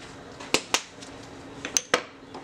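A utensil clinks sharply against a dish a few times while seasoned chicken legs are mixed with mustard, salt and pepper, the taps quick and close with quiet between them.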